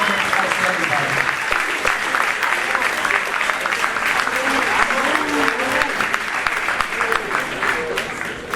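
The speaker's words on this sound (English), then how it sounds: "Have a nice round of applause for everybody." Audience at a high school varsity sports awards ceremony applauding three-sport athletes, loud sustained clapping filling the room with some crowd murmur and a few voices mixed in.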